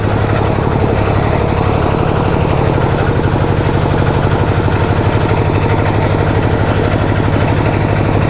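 A used Thai e-taen farm vehicle's engine runs loud and close in slow reverse gear, a continuous rapid knocking diesel-like chug with steady vibration throughout, no speech.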